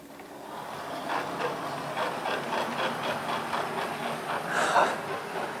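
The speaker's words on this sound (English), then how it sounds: "let's have a little bit of train running, shall we? Here comes Santa's Express." Santa's Express, a model train on a scenic layout track, runs slow and steady with a soft rhythmic clicking of wheels over rail joints and a faint mechanical hum, fairly close and alone.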